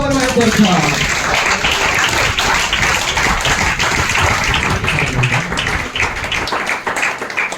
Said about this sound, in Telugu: చప్పట్లు కొట్టి దేవుడు